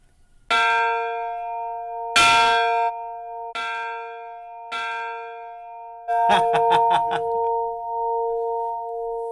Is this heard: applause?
no